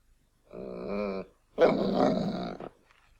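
A dog growls twice up close, a short rumbling growl followed by a longer, louder one, with a pause between and quiet around them.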